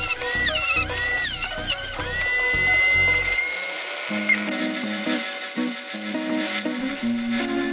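A high-pitched drill whines steadily, its tone shifting as it bites into hard jade, with faint grinding rattles underneath.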